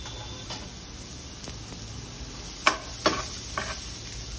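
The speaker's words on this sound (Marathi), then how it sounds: "आपण तयार केलेलं जे सॅलड आहे ते पण तेलावर हाय फ्लेमवर परतून घ्यायचं" Carrots and chopped salad vegetables sizzle and fry in oil over a high flame, with a soft continuous hiss broken by a few sharp clicks and taps of stirring.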